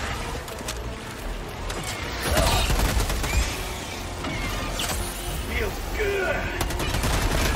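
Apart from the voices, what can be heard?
rocket launcher firing rockets in the video game Helldivers 2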